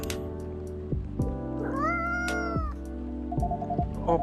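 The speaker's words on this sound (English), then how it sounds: "Oh, poor kitty. Did the machine wake you up?" A cat meows in the Coffee Talk video game, a few rising-falling cries over a steady musical backdrop, fairly close and clear with no talking.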